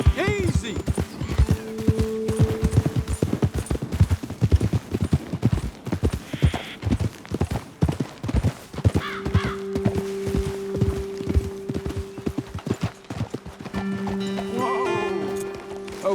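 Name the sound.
horses' hooves clip-clopping in video game Red Dead Redemption 2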